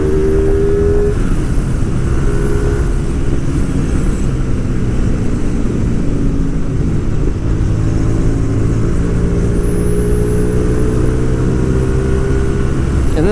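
A Hyosung GTR250R motorcycle under way on a road test, its engine humming steadily and loud with rising and falling pitch as it shifts and pulls, wind rush running throughout.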